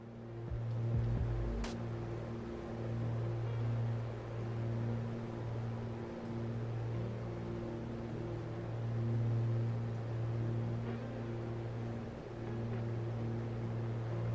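Twin piston engines of an A2A Aerostar 600 in Microsoft Flight Simulator 2024 drone steadily in cruise, a continuous loud hum with stable harmonics and no talk over it.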